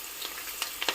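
Green chillies and curry leaves frying in oil make a faint, brief crackle with a few sharp spits and pops near the end, and nobody speaks.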